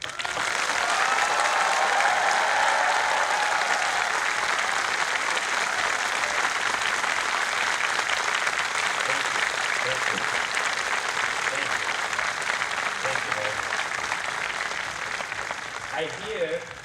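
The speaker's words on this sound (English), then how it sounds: "let's see how loud you can be in applauding your parents" Graduates at a convocation applaud their parents in a loud, sustained roar of clapping that fills a large hall, steady throughout before easing slightly at the end.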